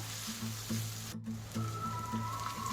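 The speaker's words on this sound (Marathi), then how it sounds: "यामध्ये आता आपण हे ओलं खोबरं घालूया आणि हे देखील छान खरपूस भाजून घेऊया" Fresh grated coconut dry-roasting in a pan for Agri crab masala gives a steady, soft sizzle with light scraping stirs, close and continuous, with a faint hum underneath.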